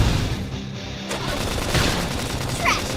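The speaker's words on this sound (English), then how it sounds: "We can just tackle them with gunfire." Dense gunfire in Xenoblade Chronicles X: Definitive Edition crackles in rapid bursts, a steady stream of shots layered over noisy background effects.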